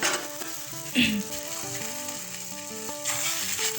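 A cauliflower paratha fries in oil on a tawa with a steady crackling sizzle, close and continuous, with a brief brighter hiss as it is pressed or moved, over faint background music.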